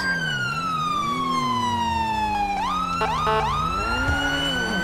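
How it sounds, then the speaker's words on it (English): A police car siren in the video game GTA 5 wails continuously and loudly, sweeping up and down, then switches mid-clip to faster yelping cycles over a low engine hum. "Let's kill the siren now so we don't spook the suspect."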